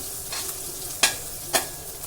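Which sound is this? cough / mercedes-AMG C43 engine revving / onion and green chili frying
onion and green chili frying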